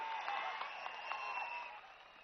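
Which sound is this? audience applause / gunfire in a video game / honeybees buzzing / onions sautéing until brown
audience applause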